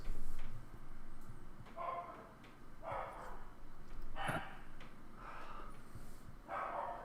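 A dog barks in short bursts, about five or six spaced barks at moderate distance over a low room hum, with no talking.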